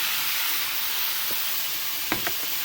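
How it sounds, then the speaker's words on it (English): Ground beef sizzles steadily in a pan, a dense, even frying hiss that runs throughout, broken by a couple of brief scraping or stirring knocks near the end; no one speaks. "You bust the meat down good and it's sizzling and everything."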